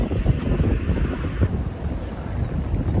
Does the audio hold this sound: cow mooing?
no